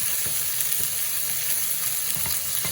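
Onion and garlic paste fries in a pan and gets stirred with a small spoon, giving a continuous close sizzle with light scraping clicks from the spoon.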